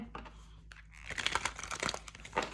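Tarot cards shuffled and riffled close by, a crisp crinkling and slapping texture in quick uneven bursts with no talking.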